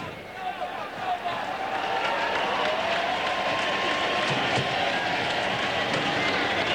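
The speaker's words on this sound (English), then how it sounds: "Roar from the Chicago crowd." Roar of a racetrack crowd in Chicago as horses break from the gate, a broad continuous swell of cheering that builds and holds steady, with a race announcer's voice over it.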